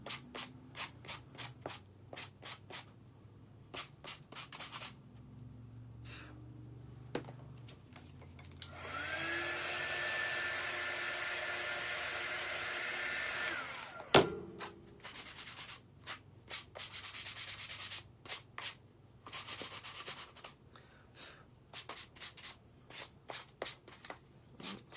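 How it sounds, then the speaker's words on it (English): A 60 grit sanding block rubbed over the edges of a wooden craft project, quick close rasping strokes in bursts, with a longer continuous stretch of scraping in the middle and a brief knock partway through. "So this is a sanding block. It's 60 grit."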